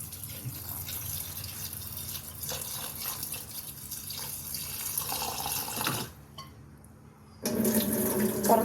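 A kitchen tap runs over paneer as it is rinsed, a steady splashing stream close by, briefly cut off and then flowing again louder at the end, with no voices.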